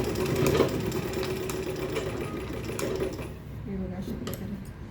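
Sewing machine running steadily while stitching fabric for a small girl's purse, a close continuous mechanical whir with a slight dip and pause near the end.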